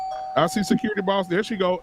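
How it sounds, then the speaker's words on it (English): A doorbell chime rings steadily beneath a person talking continuously, with the tone held faintly in the background throughout the speech. "Oh, wait, that's a doorbell."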